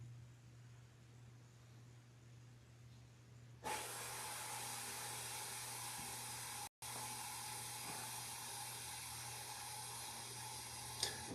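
Broadband hiss of a home refrigerator running noisily, quiet at first, then abruptly louder and steady, with one brief dropout partway through.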